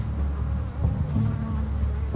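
Insects buzz steadily in the video game Shelter 2, a continuous low drone of bees or flies close by with a few shifting tonal swells, heard alone and without any talk.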